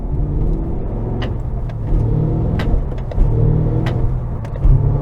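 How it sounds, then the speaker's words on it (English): A 2023 Cadillac CT5-V Blackwing's supercharged V8 with over 600 horsepower revs loudly and close, its deep rumble rising and falling in repeated throttle blips with sharp crackles on top. "that extension has a supercharged massive V8 with over 600 horsepower"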